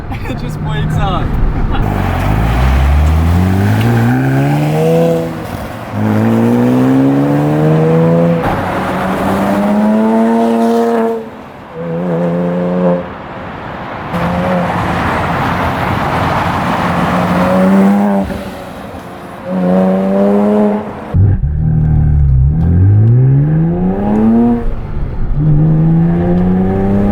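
A Porsche Cayman S with a full aftermarket exhaust revs and accelerates repeatedly, its exhaust rising in pitch through several gears, loud and close, with brief lifts between pulls.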